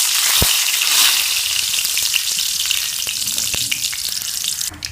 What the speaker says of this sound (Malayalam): അപ്പോൾ കടുക് പൊട്ടി കഴിഞ്ഞിട്ടുണ്ട്.